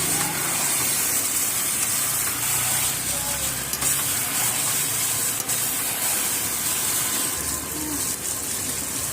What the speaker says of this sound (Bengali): এবারে আমি মাছটাকে দিয়ে আবারও ভালো করে কষিয়ে নেব।